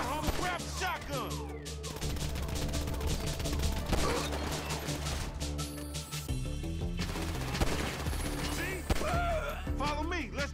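Gunfire in the video game GTA V during a shootout mission, rapid bursts of automatic fire and single shots crackling loudly and continuously, with shouted game dialogue over the shooting.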